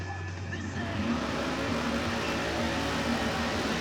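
Chevrolet Corvette on a drag racing bye run, a loud, sustained engine roar with a steady high drone and racing rumble underneath, heard from some distance at the strip.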